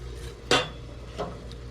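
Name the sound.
stirring melting chocolate in a pot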